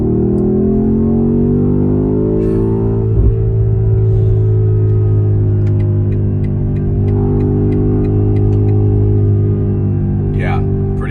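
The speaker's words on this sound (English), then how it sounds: "So let's test that acceleration." A 2024 BMW XM accelerates hard. The engine holds a loud, steady low drone heard from inside the cabin, with its pitch climbing gradually. Brief clicks and a short sharp noise break in partway through.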